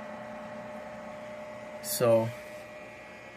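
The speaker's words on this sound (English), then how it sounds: "You can hear the fan running right there." A small Chefmate mini fridge runs its fan with a low, steady hum close by. One short spoken word rises briefly over it.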